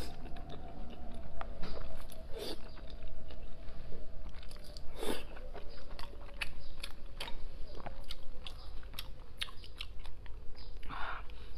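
Close, wet chewing and soft crunching bites of spicy pork pig brain, repeated at an uneven pace over a low background hum, with no talking.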